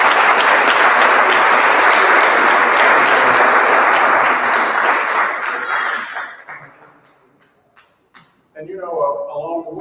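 Loud, dense applause from a crowd at a Father's Day pledge event, sustained for about six seconds before tapering off into a few scattered claps, after which a voice begins speaking.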